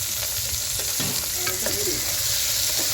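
Hyacinth beans (avarekalu) frying in a pan, with a continuous close sizzle and a few scraping stirs of a spoon against the pan. No one speaks.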